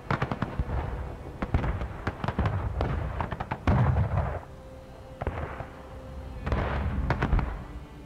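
Musket skirmish fire in the Civil War game War of Rights: sharp, scattered gunshots crack irregularly, some near and loud, others distant, with brief pauses between volleys.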